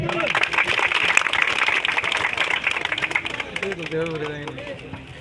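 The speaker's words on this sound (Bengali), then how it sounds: "জোরে একটা হাততালি।" Loud applause from a crowd at an award ceremony where crests are being presented, dense sustained clapping over the whole stretch with voices and crowd noise mixed in.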